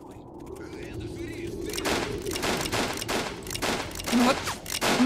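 Rapid gunfire from shooting at a cactus in the video game Commissioner's Task, a dense fusillade of repeated shots growing louder after a quieter start, with talk over the shooting.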